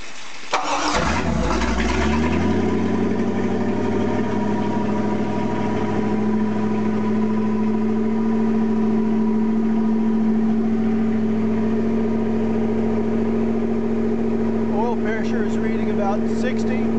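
A 1982 Mercruiser 5.7 liter 260 horsepower V8 boat engine cranks and catches with a loud start, then settles into a steady, even, droning idle up close, with a voice briefly heard near the end.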